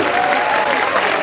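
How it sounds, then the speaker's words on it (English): Loud, dense crowd applause welcomes international tourists at a Bollywood Park show in Mumbai, continuous and close for the whole stretch. "मैं चाहूँगी कि उनके लिए एक वेलकम होना चाहिए जोरदार तालियों के साथ में"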